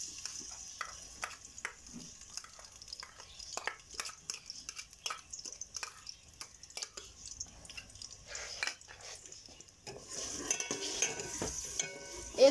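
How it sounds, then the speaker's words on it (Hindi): Garlic ginger paste frying in oil in a cooking pot, a quiet crackle and sizzle with repeated spoon stirring and scraping clicks against the pot, growing busier toward the end. "दो चम्मच हम लोग डालेंगे लहसुन अदरक का पेस्ट"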